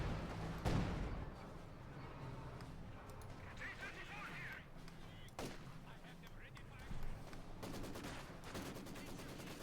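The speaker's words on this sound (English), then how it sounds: "attempting to take out the Pack 40 with a field gun. It's barrage." A field gun barrage in the Company of Heroes 2 real-time strategy game, in a Wehrmacht versus Soviet match. Heavy booming impacts land near the start and again midway, over a continuous rumble of battle noise and scattered gunfire.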